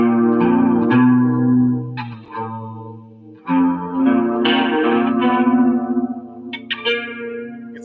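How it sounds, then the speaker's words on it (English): Electric guitar open strings played through chorus, distortion and echo effects, sustained shimmering chords that swell and fade across a few separate strums, with a warbling tail near the end. "And you get a really cool, different open string sound."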